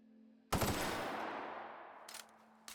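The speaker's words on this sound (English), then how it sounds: "Let's pull out my automatic pistol." An automatic pistol in The Outer Worlds fires one loud burst that rings out and decays slowly, followed by two short, quieter bursts near the end.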